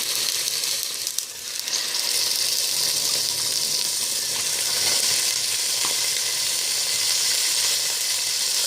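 Rabbit pieces hiss and sizzle loudly in a hot pan of oil, a dense steady frying crackle close up that swells briefly as the meat goes in and then holds, with no talking.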